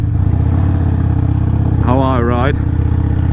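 A motorcycle on a Screamin Eagle Pro tuner stage 1 map, base map 2017-18, idles with a steady low rumble throughout while someone talks over it.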